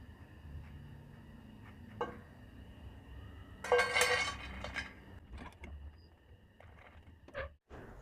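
A metal utensil clinks faintly in a pan a few scattered times while fried gram-flour boondi are lifted out, with a slightly busier cluster of clinks midway against quiet kitchen background.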